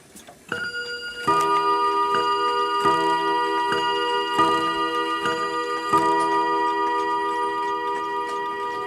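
A Revere mantel clock strikes repeatedly with a resonant metallic gong, each tone sustaining and overlapping the next in a steady, slow rhythm, heard up close without voices.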